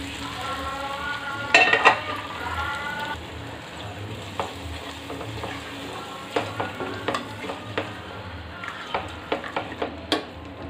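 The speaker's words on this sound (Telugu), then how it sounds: "ఇంక మనం ఇంక ఈ పోపు వేసేసుకుందాం దీనిలో." Tempering is poured into a mixed leafy greens pulusu curry and hisses with a loud burst of sizzling. It settles into a softer sizzle broken by scattered clinks of a spoon stirring the pot.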